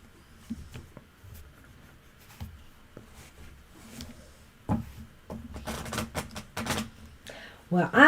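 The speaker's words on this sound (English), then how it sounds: "I'm shuffling the Lenormand." Lenormand cards being shuffled by hand, soft papery taps and riffles coming in short scattered bursts, quiet and close, with a voice speaking at times.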